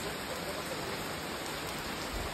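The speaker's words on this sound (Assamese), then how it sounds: "বৰষুণ দি আছে আৰু ফুৰিব যাৱাৰ মাথা খালি" Rain falls steadily in a continuous dense hiss that stays even throughout, with no voices over it.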